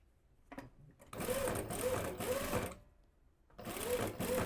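Sewing machine stitching a seam on a blouse, running in several close bursts with a rhythmic mechanical whir and brief stops between.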